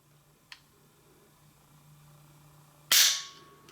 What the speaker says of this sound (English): So cocking it back here, starting to press on the trigger. A little bit of movement. And then a very good break.